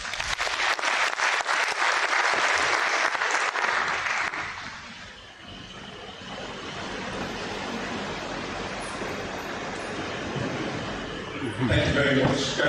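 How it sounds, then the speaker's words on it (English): Applause from a lecture audience rings out for about four seconds, then fades into a murmuring room with scattered voices, and a brief burst of clapping returns at the end. "Can we please give more round of applause?"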